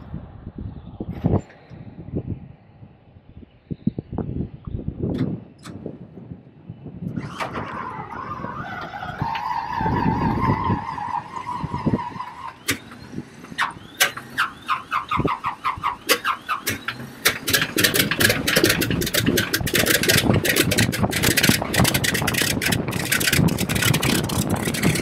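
Single-engine T-6 trainer aircraft being primed and started on the ramp, with scattered clicks and sputters that build into a steady, loud engine drone with a whining tone, near and continuous.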